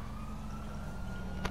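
Police car siren in a GTA video game, a steady wailing tone sitting low and faint under a constant engine rumble, with a brief sharp click near the end.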